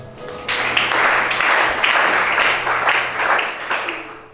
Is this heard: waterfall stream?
no